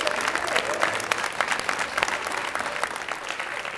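Studio audience at an Armenian comedy club show applauding, a dense wash of clapping that stays loud and even throughout, with faint crowd murmur beneath.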